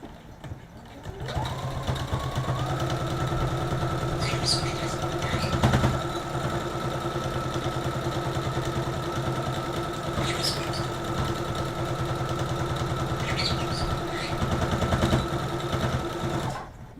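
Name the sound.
sewing machine stitching elastic into a dress waistband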